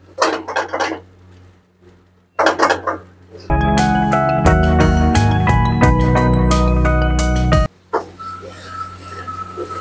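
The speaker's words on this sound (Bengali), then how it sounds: "এক পিঠ হয়ে গেলে উল্টে অপর পিঠ আপনাদের প্যান ফ্রাই করতে হবে।" Food is flipped and pan fried in a pan while making Cantonese chicken gravy noodles. Brief scraping and clinks lead into a dense, loud four-second burst of ringing metal clatter, then quieter scrapes follow.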